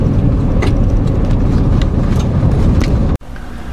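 A 2013 Chevrolet Silverado all-wheel-drive pickup rolls along a sandy road, its steady loud engine and tyre rumble filling the scene before a brief cut near the end.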